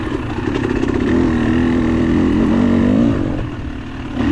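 2022 KTM 300 XC-W two-stroke dirt bike climbing a rocky hill in third gear during an Ironman endurance race, a loud, close engine drone that swells, holds steady and dips briefly near the end, no talk.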